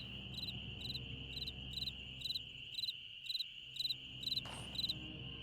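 Crickets chirping in the Nancy Drew: Ghost Dogs of Moon Lake video game near a cemetery at night, a regular pulsing series of close chirps over a steady high insect drone and faint ambient hum.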